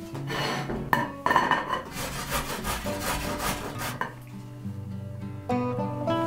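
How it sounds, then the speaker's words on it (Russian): A carrot is rubbed against a coarse grater in a home kitchen, giving repeated scraping strokes that rise and fall in loudness over soft background music. "Морковь натираю на крупной терке."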